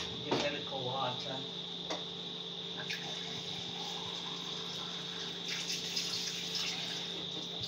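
Water running from a kitchen tap while cooking Jamaican corn dumplings, a steady faint hiss with a few clinks and soft background voices, close but low in level.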